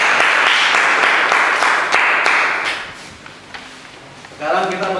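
A classroom audience applauds a student presentation group, giving a loud, dense round of clapping for about three seconds before it tapers off. Voices start speaking near the end.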